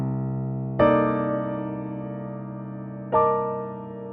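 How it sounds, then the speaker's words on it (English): A modern minor 13 chord voicing with the flat seventh in the bass, drop 2 style, is struck twice; each attack rings out with a rich, sustained harmonic tone and no other sounds. "Another nice one that's more modern that I really like is a minor 13,"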